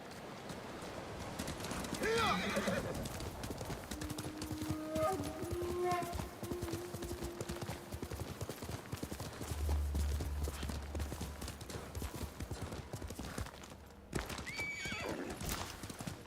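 Horse hooves clip-clop steadily in the game Ghost of Tsushima, with a neigh breaking in partway through, all under a voice talking over the gameplay.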